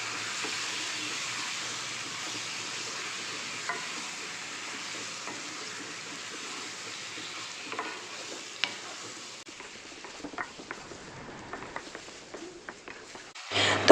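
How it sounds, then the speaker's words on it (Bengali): Marinated chicken fries on a high flame for a chicken curry, giving a steady close hiss and sizzle as it is stirred, with scattered clicks and scrapes growing toward the end and no talking. "আমরা সুন্দরভাবে চিকেনটাকে ফ্রাই করে নেব।"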